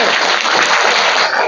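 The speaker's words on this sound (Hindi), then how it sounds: "ताली बजाओ जी इसके लिए" Schoolchildren in a government school classroom clap together, a dense, steady burst of hands filling the room at close range for a second and a half.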